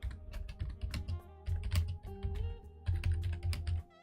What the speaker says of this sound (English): we're just typing notes